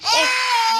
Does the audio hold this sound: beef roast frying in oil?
no